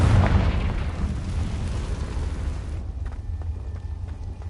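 A Confringo fire spell from Hogwarts Legacy bursts in a loud, rumbling explosion that rolls on and slowly fades over several seconds, with no voices.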